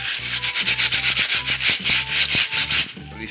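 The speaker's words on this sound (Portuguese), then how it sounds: "Aí agora eu vou só lixar, ó." Hand sanding on a clay pig-shaped flower pot makes a close, rhythmic scratchy rubbing in quick back-and-forth strokes, about a dozen in a row, with no talk.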